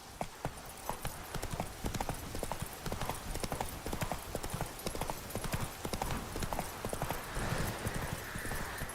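Horse hooves galloping in the video game The Witcher 3: a fast, steady clip-clop rhythm of close, crisp hoofbeats running throughout, with faint ambient game sound beneath.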